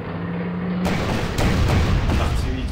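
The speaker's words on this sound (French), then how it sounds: "L'artillerie qui bosse." Artillery barrage in the wargame Panzer Corps, set in 1944-1945 toward Berlin: a steady low rumble with dull booming impacts after a brief tone, loud and continuous across the short span, no talk over it.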